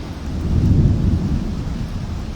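A strong summer thunderstorm: deep, rolling thunder swells and fades under a constant wash of rain and wind, with no voices.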